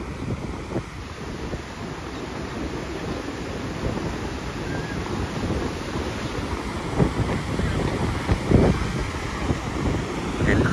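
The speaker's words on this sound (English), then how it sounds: "Here's the Niagara Falls with the Maid of the Mist ferry ahead of us." Niagara Falls seen from the water near the Maid of the Mist ferry, a steady heavy roar of falling water and surf mixed with wind buffeting the microphone, continuous and loud throughout.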